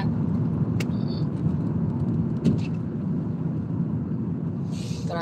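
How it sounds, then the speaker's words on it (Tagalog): Road traffic with car engines rumbling steadily around a vehicle heading to Carberry, a continuous low drone with a brief louder bump midway and faint hiss near the end. "Traffic."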